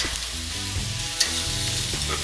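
Elk tenderloin medallions sizzle loudly in a hot pan as they are turned over, a dense steady frying crackle with a brief clink of the utensil partway through.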